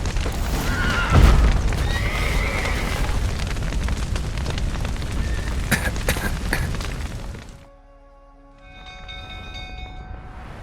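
Horses whinny in the video game Witcher 3 over a loud, steady roar of crackling, rumbling noise from a burning building with a collapsed roof, which cuts out near the end, leaving a soft sustained tone.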